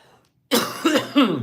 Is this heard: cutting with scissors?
no